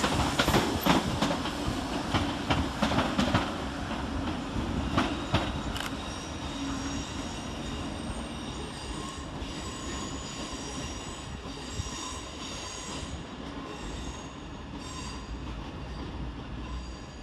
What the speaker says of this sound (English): Next out to depart is 313215, working the 1711 Southern Railway service to Seaford.